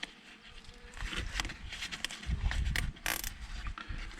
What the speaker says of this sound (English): See, all the bees come here to get their water.